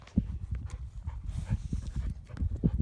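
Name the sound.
baby donkey moving on a farm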